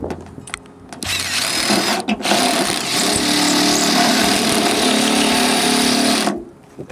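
A power drill whirs loudly and continuously for several seconds after a couple of brief starts, drilling through a gutter during installation, then stops abruptly, close up with no talking.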